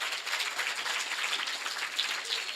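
Audience applause for a grade 7 student at an education talk, a steady dense clapping wash that holds evenly for the whole stretch with no voices.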